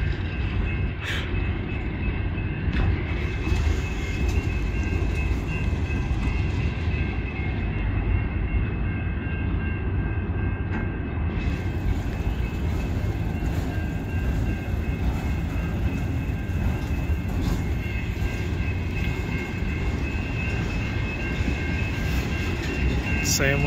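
Freight train with NS and UP locomotives and gondola cars rolling steadily past at close range in Rockwood, a continuous loud rumble and clatter with wheel squeal tones throughout.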